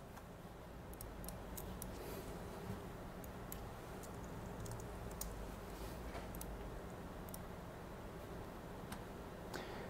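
Computer keyboard typing on a laptop, a series of faint, scattered key clicks over a steady room hiss, with no talking.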